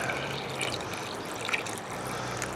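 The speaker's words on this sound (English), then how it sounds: "I'm going to go ahead and water it down." Water pouring onto moist potting soil inside a repurposed water bath canner, a steady close splashing trickle running unbroken for a couple of seconds with no talking.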